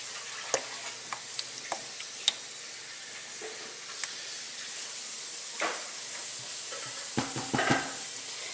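Marinara sauce simmers in a pot, giving a steady soft hiss with occasional small pops and sharper bubbling bursts near the end, with no talk.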